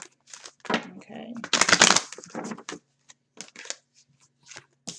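Tarot cards are shuffled in quick, crisp bursts of riffling and slapping, close and fairly loud, with short pauses between handfuls.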